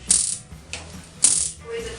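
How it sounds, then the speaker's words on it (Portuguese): Two sharp mechanical clicks from an oven knob being turned, one near the start and one at about a second in, with quieter ratchet-like clicking between them, close and dry in a kitchen. "Vamos ligar o forno"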